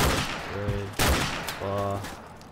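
Gunshots in Call of Duty 4: Modern Warfare, two sharp loud reports about a second apart, with a voice talking between and after them.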